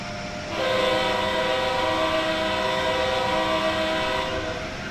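An Amtrak Acela train in Train Sim World 4 sounds a long, loud, steady horn blast over a constant rolling rumble of the running train, with no voices.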